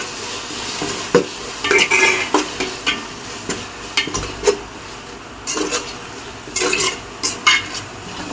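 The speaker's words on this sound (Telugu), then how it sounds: "కొంచెం అల్లం పేస్ట్ వేస్తానండి, మనకు తగని సరిపోయినంత. అది కొంచెం ఆయిల్లో వేస్తే పచ్చివాసన పోతుంది." Ginger paste sizzling in oil in a pot for chicken biryani, with repeated close stirring scrapes and utensil clinks against the pan over a steady low fry, and no talking.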